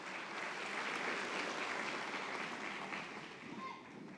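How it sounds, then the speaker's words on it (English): Audience applause at a spring college convocation ceremony, a steady dense wash of many hands clapping that holds evenly for several seconds and eases slightly near the end. "Another round of applause for this group."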